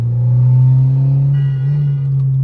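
A stage 3 turbocharged Volkswagen GLI idling and creeping in traffic, a deep, steady engine rumble with a low drone that swells slightly mid-way, heard from inside the car.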